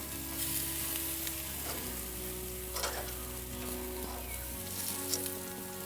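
Steaks sizzle quietly in a pan with a soft, even crackle and a low steady hum beneath, a few faint pops rising now and then, heard close with no talking.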